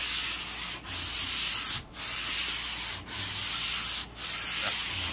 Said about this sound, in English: I like to do a hand sand